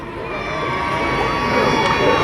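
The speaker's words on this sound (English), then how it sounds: "after 3, a big cheer" A large crowd of children cheers loudly for the red team at a police open day dog show, a sustained, close roar of shouting voices that swells slightly toward the end.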